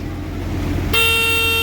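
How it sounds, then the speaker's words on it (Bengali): A vehicle horn blares in one long, steady honk partway through, loud and close, over a low engine rumble. "হর্ন বাজাও"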